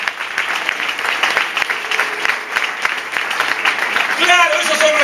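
At a church youth camp, the congregation gives a loud round of applause for the Lord, sustained crackling claps throughout, while a voice speaks over them near the end.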